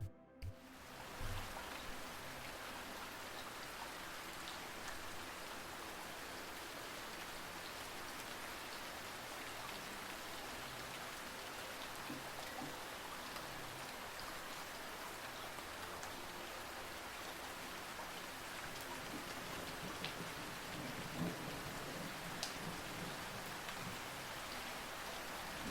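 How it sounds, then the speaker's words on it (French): Steady rain falling, a soft, even hiss of drops on surfaces that continues unbroken throughout, calm and moderately distant, with no voices. "Je vous propose qu'on se détende ce soir au son de la pluie."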